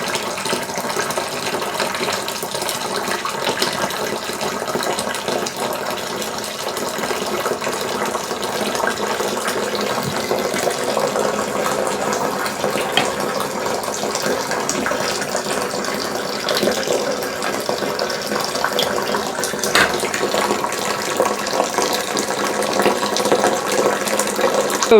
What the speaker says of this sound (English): we'll put more water in the thing and fill it up